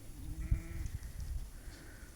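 Goats bleating on a small farm, a few short wavering calls close by over low rumbling background noise.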